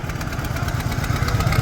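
A tractor engine runs close by at a village kupkari gathering, giving a loud, rough, low chugging rumble with a fast pulsing beat and no speech over it.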